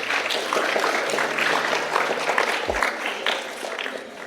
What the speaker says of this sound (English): give them a very heavy applause for the job well done.